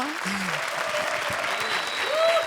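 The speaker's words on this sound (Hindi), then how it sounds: "जोरदार तालियां।" A comedy show studio audience breaks into steady applause, dense clapping throughout at even loudness, with a few voices and whoops rising above it.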